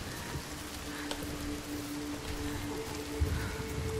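Rain pattering on a house roof in Hellblade 2, a steady soft wash of drops with a faint tonal hum underneath and no talking.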